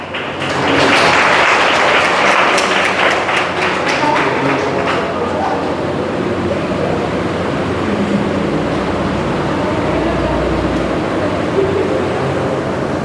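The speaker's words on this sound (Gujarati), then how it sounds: "હમણાં સૌ આપણે તાળીઓના ગડગડાટથી અપેક્ષાને જન્મદિવસની શુભકામના પાઠવશું" Sustained applause from a gathered crowd at a birthday cake cutting, dense clapping that swells in the first seconds and then holds steady and fairly loud throughout.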